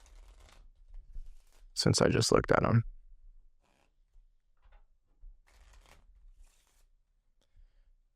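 A deck of playing cards riffle-shuffled by a magician in one sharp, close burst lasting about a second. Someone speaks briefly before and after, with quiet handling of the cards in between.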